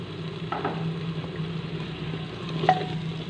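Taro and meat fry in a pan with red chili, turmeric and coriander powder, giving a steady, close sizzle with a faint clink of stirring partway through.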